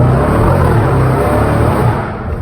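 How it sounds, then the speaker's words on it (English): A Range Rover Sport SVR's engine roars steadily while driving, a loud, continuous deep rumble that eases off slightly near the end. "Even without the dynamic mode, guys, this car just sounds like a beast"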